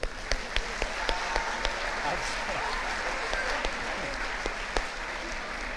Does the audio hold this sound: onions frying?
no